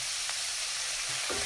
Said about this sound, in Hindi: नमक के साथ में हमारी शिमला मिर्च वगैरह अच्छे से पक जाएंगी